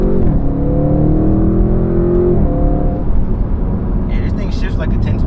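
An Audi RS6 wagon's engine hums steadily while driving, its pitch rising then dropping as it shifts, with road and cabin noise throughout and people talking over it.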